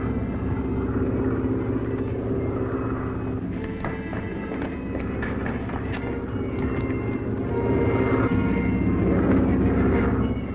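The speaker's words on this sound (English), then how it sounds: "An aeroplane." A continuous low drone of an aeroplane engine, steady and fairly loud, swelling slightly toward the end.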